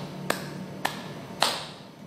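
Three sharp finger claps from children at an Islamic kindergarten during a clapping song, evenly spaced and crisp, with no voices.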